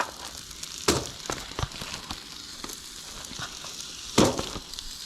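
Leftover Bob Evans sausage sizzles on foil in a single skillet at an outdoor solo camp, a soft steady crackle with a few sharper pops, fairly close.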